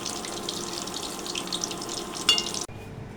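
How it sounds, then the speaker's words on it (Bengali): Afternoon snacks deep-frying in hot oil until reddish, a steady dense sizzle with small clinks and stirring, cutting off abruptly near the end with no voices. "এভাবে লালচে করে ভেজে নিতে হবে। আমি সবগুলোই এভাবে ভেজে নিচ্ছি।"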